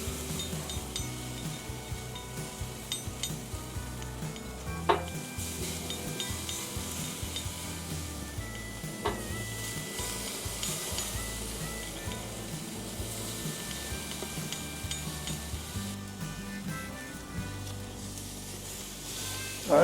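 Memphis-style pork ribs get basted on a hot grill, a steady close sizzle and frying hiss running throughout, with light brushing rubs and an occasional clink of a utensil on metal.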